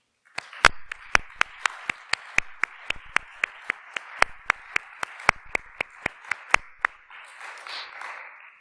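Sharp, evenly spaced handclaps ring out over a light wash of applause at a platform inauguration and master class. The clapping continues for several seconds, then trails off into a softer patter.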